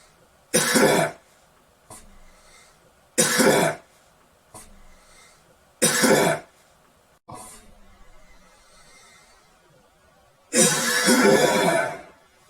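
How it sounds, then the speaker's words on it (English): Several harsh coughs and throat clearings come in separate bursts, loud and close, with a longer rough fit at the end. "hold on a sec, I got a cough."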